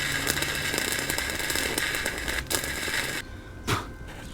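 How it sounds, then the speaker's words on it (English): A fire crackles during flux-core welding with a Harbor Freight Titanium Flux 125, a dense, loud run of sizzling crackle and pops that breaks off briefly and returns with a sharp burst near the end. "Bro, we have a fire."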